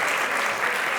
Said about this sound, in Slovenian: Dajmo še en aplavz za mentorje.